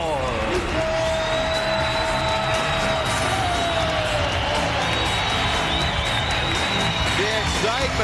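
A packed fight-night arena crowd cheers and applauds for Vitor Belfort at Chuck Liddell vs Vitor Belfort, a loud continuous roar of clapping and shouting with shrill whistles rising above it throughout.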